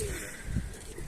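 Pigeons coo at close range in a yard kept with ducks and chickens, a short low throaty call standing out over steady background noise.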